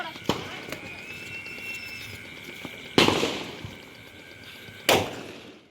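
Two sharp, loud firecracker bangs at a Diwali celebration, a couple of seconds apart, each ringing out briefly, over a steady background hum with faint voices.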